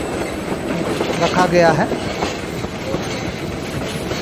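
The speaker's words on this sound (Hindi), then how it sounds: "साल्टा प्रांत अर्जेंटीना में एक पर्यटक ट्रेन सेवा।" A heritage tourist train runs on a railway in Salta province, Argentina, with rolling wheel rumble and a brief clickety-clack, while a voice narrates over it.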